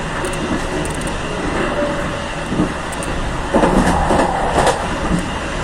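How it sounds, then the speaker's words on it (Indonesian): The Logawa passenger train pulls into Probolinggo station in Indonesia, heard from on board as a loud, steady rolling rumble with faint squeals and rattles rising toward the end. "Jam 4:30 tepat kereta api Logawa telah tiba di stasiun Probolinggo."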